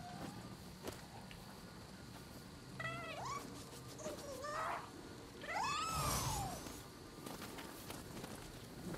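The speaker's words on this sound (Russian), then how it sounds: "Я на самом деле так и не понял, что дает эта кошка." A cat in the samurai action game Nioh 2 meows several times, with drawn-out, rising and falling calls in the middle of the clip over a soft ambient game background and faint footsteps.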